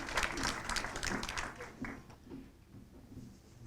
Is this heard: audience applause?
yes